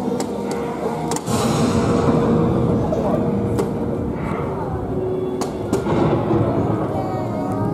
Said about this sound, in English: that does thunder and lightning